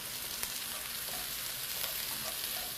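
About half a pound of shallots and a pound of mushrooms fry in a pan, giving a steady close broadband sizzle with a few faint stirring clicks and no voices.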